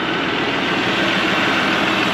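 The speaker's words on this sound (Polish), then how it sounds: "Posłuchamy, jak ten silnik pracuje. Jest to silnik trzycylindrowy, więc jest słyszalna ta charakterystyka pracy silnika trzycylindrowego." A New Holland T4.75S tractor's three-cylinder engine idles close by, a steady, even low rumble with a slight vibrating texture, no voices.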